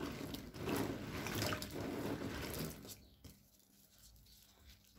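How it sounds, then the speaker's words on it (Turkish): Pine cones being washed in a basin of water give off close, busy splashing and sloshing for about three seconds, then fade to faint drips and quiet movement. "Kozalaklarımı böyle en az 4-5 su yıkamak istiyorum."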